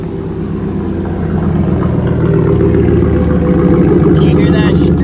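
A 2011-2014 Ford F-150 running with a straight-piped exhaust after a remote start, a loud, steady, rumbling idle recorded nearby that swells slightly, while a person talks over it.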